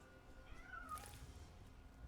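A faint, short cat meow from the Magic: The Gathering Arena digital card game, heard once and alone at low volume.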